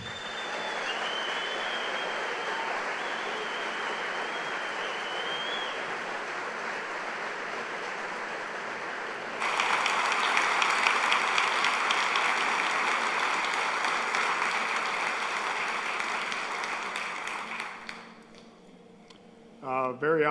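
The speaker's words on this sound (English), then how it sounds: "we can probably make a little crowd noise to welcome 10-time Pro Bowler, Super Bowl champion, NFL Hall of Famer, Mr. Mike Singletary." Crowd applause welcoming NFL Hall of Famer Mike Singletary at the Ocean City Tabernacle, a steady dense clapping that swells louder midway, then fades out near the end.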